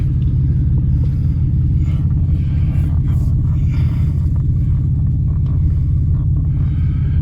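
A 1998 Oldsmobile 88 that has a plugged catalytic converter drives around a block. Its engine gives a loud, steady low rumble with road noise throughout, heard from inside the car.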